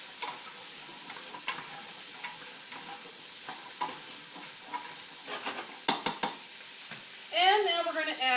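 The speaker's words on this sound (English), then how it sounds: "And then celery and carrots. Stir those around a little bit." Celery and carrots sizzle in a pot for gluten-free beef stew while a utensil stirs them, giving steady frying hiss punctuated by scattered clicks and scrapes, with a louder sizzling burst near the end.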